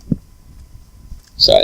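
A mobile phone notification chime goes off abruptly near the end: a short, bright tone that rings out after a mostly quiet stretch broken by one soft knock.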